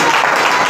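An Easter Sunday congregation applauds loudly and steadily, many hands clapping at once in a close, even, unbroken wash of sound.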